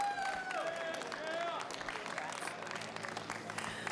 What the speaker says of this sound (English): let's give one more round of applause for your champion